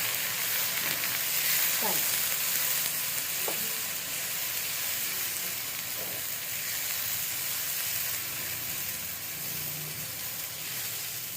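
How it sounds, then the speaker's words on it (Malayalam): Brinjal thokku masala with ground tomato simmering and sizzling in a pan while being stirred, a steady close frying hiss with a few scraping spoon strokes. "ഇതെല്ലാം കൂടി നന്നായി ചേർത്ത് ഇളക്കി ഒന്ന് തിളപ്പിക്കാം."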